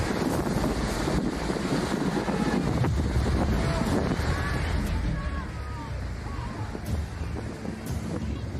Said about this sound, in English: With winds gusting and snowdrifts rising, this simple task became an epic adventure.